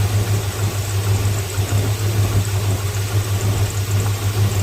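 The engine of a 1978 Plymouth Volare gives a steady, loud low rumble that holds without a break through the whole moment, with no voices over it.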